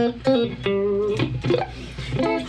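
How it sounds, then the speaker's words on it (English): Distorted electric guitar plays short, choppy rhythmic strums and brief sustained notes in a funky, syncopated pattern, up close and clear. "So that's your funk guitar sound"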